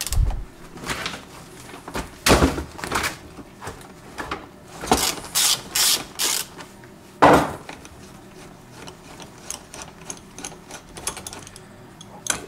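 A bolt being loosened on a Toyota Camry front driver seat (1992–2014 model years): sharp, irregular metallic clicks and knocks from a wrench, some in quick clusters, with quieter pauses between.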